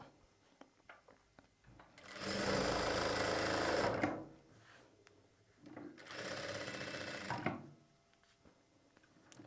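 A sewing machine stitches the lining around a round-neck blouse, running in two steady bursts of a few seconds each with a pause between, close and clear with no talking.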